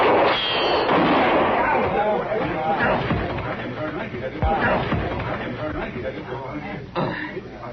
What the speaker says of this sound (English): That's not the way to apply, Riff. Not with a gun